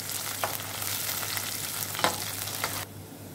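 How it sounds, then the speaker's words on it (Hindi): Diced onions and green chilies frying in a pan for Hyderabadi-style kaleji fry, a steady close sizzle with a few soft stirring scrapes, cutting off abruptly near the end. "अब हमें इसे अच्छे गोल्डन ब्राउन करना है, इसे अच्छे से तलेंगे हम।"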